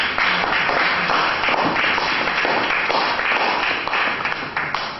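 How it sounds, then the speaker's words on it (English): A room full of attendees at a Lagos State inclusive health policy forum giving a round of applause, with dense, steady clapping sustained throughout, fairly loud and close. "let's give them a round of applause"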